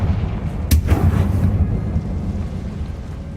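A Confringo spell blasts in the video game Hogwarts Legacy, a single sharp crackling burst followed by a rumbling, fading boom over low background noise.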